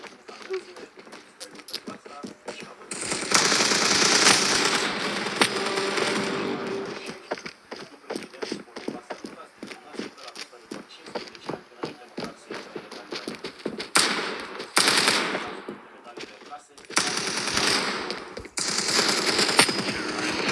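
Gunfire in a shooting video game: bursts of rapid automatic fire, loud and close, come in several clusters with short gaps between them, and a few scattered single shots fall in between.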